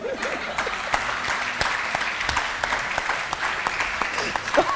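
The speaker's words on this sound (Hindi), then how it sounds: "किसी ने बहुत दिल से ताली बजाई इस बात पे।" An audience claps loudly and steadily for about five seconds, a dense patter of close hand claps with faint voices mixed in.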